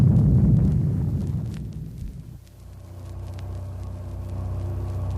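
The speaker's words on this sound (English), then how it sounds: "just as the first of a devastating series of explosions goes off" A loud booming explosion from a children's audio story of The Six Million Dollar Man rolls out as a heavy rumble, fades over two seconds, and leaves a low steady drone.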